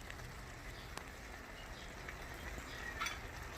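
Shrimp simmering and crackling in a pan with oil, a soft, steady sizzle with a few small pops and a brief stirring scrape near the end.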